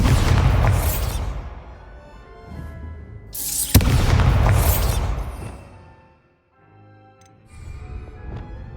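Two heavy booming blasts from the Bombarda spell in Hogwarts Legacy, each a loud explosive burst with a rumbling low tail, the second following a few seconds after the first, then a quieter lingering rumble.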